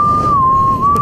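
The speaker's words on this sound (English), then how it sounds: "I'm so bad at whistling" A single sustained whistle holds one steady tone for about a second, close and clear, with a slight dip in pitch midway.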